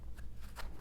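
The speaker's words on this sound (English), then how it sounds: "Let's do some shuffling." Oracle cards from an animal-themed deck being shuffled by hand, a short burst of soft papery riffling and flicks at close range with no voices.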